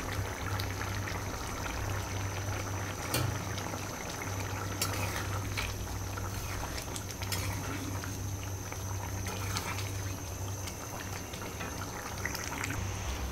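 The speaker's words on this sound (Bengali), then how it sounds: "এখন আমি কড়াইতে একটু জল দিয়েছি," Water goes into a hot wok on the stove during Bengali home cooking, producing a steady sizzling, bubbling hiss with scattered sharp clicks and crackles throughout.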